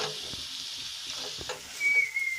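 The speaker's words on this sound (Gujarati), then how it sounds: "આપણે બટાટા સરસ રીતે મસાલામાં મિક્સ થઈ જાય ત્યાં સુધી આપણે હળવા હાથે હલાવશું" Potatoes for garlicky lasaniya bhungla batata are gently stirred in spice masala in a hot pan, giving a steady sizzle with soft scraping stirs and a thin whistling tone near the end.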